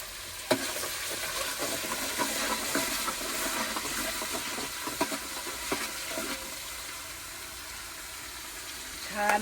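Freshly washed, still-wet curry leaves sizzle and crackle in a hot pan, a steady hiss broken by scattered sharp pops.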